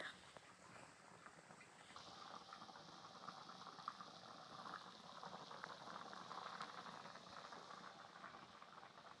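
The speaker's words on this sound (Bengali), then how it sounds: "চারিপাশ থেকে সুন্দর করে ঝোলটা ফুটে গেছে" Potato curry gravy bubbles steadily in a pot, a faint continuous simmering burble with soft popping throughout and no voices.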